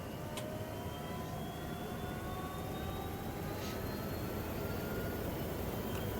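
The second engine of an MD902E helicopter spools up in the X-Plane 12 flight simulator as the rotor turns, a steady, dense turbine roar and whine that stays even throughout, with no talking.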